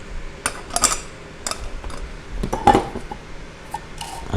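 Slotted aluminium pot holder pieces from a camping cook kit clink and tap together in scattered, close metallic knocks and chinks as the kit is put together.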